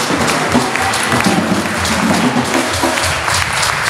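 A church congregation claps and applauds in praise of the Lord, a loud, dense, steady wash of many hands filling the room throughout, with no voices standing out above it.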